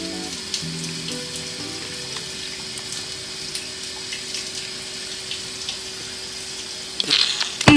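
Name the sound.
water running while washing hair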